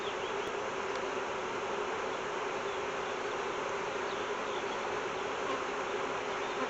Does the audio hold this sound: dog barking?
no